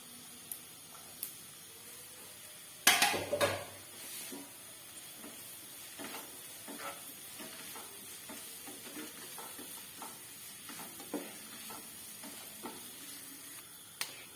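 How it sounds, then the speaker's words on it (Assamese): Onions sizzle quietly in a pan with garlic and ginger, a soft continuous hiss broken by a loud clatter of stirring early on and occasional light scrapes. "অলপমান ব্ৰাউন কালাৰ অহালৈকে মই পিঁয়াজখিনি ফ্ৰাই কৰিম।"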